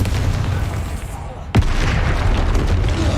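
A Confringo fire spell in Hogwarts Legacy bursts with one sharp, loud blast midway, followed by a rumbling, crackling tail under a steady roar of game noise, with a player talking around it.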